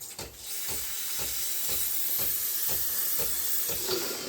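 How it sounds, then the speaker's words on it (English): Sage/Breville Barista Pro espresso machine steam wand hissing strongly and continuously close by, a broad even rush with slight pulsing. "And then the steam should be nice and strong as well."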